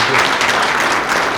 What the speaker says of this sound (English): Give our sponsors a round of applause.